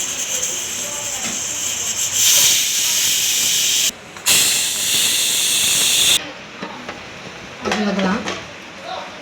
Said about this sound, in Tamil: குக்கர் மூடி போட்டு ஒரு 4 விசில் விட்டால் போதும், வெந்துடும்